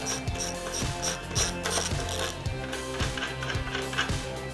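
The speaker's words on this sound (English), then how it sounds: "a 3/8 ratchet, we can break free these bolts" Repeated ratchet-pawl clicking from a 3/8 ratchet backing out axle bolts on a GT Pro Series Heritage BMX bike, a steady run of close, crisp clicks with regular strokes throughout.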